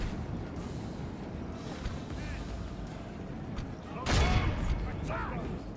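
Troops open fire on an enemy general in Medieval 2 Total War, sending game gunfire crackling across a noisy battlefield. A louder burst of shots rings out near the end, under constant battle ambience and someone talking.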